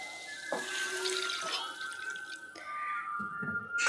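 Water splashes and trickles into a pan of fried spiced curry masala with turmeric, loosened oil and koi fish, a close, steady pour with a few brief surges and no voices.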